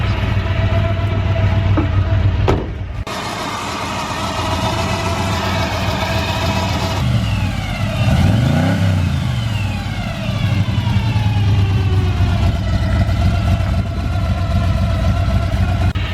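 A G-Body Malibu V8 with a Thumpr cam and a 3-speed transmission, running near 2,500 RPM, gives a loud, steady, lumpy drone that holds throughout with brief dips and swells in revs.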